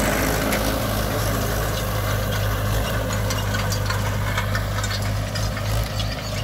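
A Mahindra 575 DI tractor idles on a farm field, its diesel engine holding a steady low rumble with a faint knock, loud and close throughout, with no voices.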